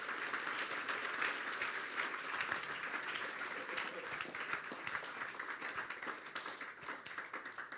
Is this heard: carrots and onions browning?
no